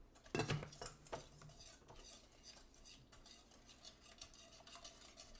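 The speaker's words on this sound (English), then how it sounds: "Continue to whisk." French toast batter of eggs and sugar whisked in a bowl, quick rhythmic clinking and scraping of a utensil against the dish, faint and steady, heaviest at the start, with no voices.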